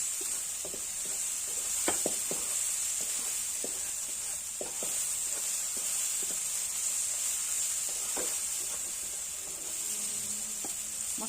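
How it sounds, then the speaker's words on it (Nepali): Spice masala with Kashmiri chili powder fries in a pan for aloo matar gravy, giving a steady sizzling hiss broken by scattered clicks and scrapes of stirring, with no talk. "मसलालाई मजाले भुट्नुपर्छ काँचो स्मेल जानुन्जेलसम्म"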